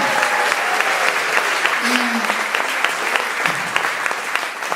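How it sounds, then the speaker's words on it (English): An audience claps loudly and continuously for a birthday guest, the full applause lasting the whole stretch while a voice briefly cuts through on top. "Big round of applause for Janice."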